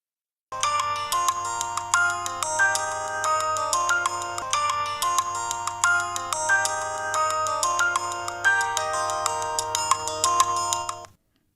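A phone plays a bright melodic ringtone, one continuous tune lasting about ten seconds at a steady level with no talking, then it stops.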